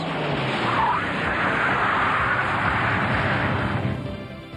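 A car on Goodyear Aquatred tires brakes hard on a wet road, giving a loud, sustained hiss and rush of tires on water that holds steady for about four seconds before fading.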